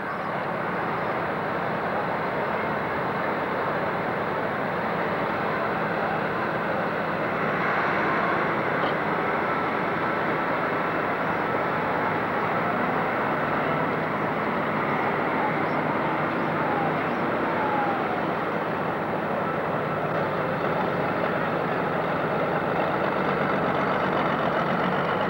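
A pulling tractor's engine roars steadily through a test pull at a 1997 Illinois tractor pulling event in Sandwich, a loud, unbroken droning growl that swells slightly partway through and holds constant to the end.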